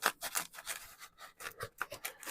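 Scissors snip repeatedly through a foam pool noodle while packing a large item for shipping, a quick, close, rhythmic series of sharp crunching cuts with no talking.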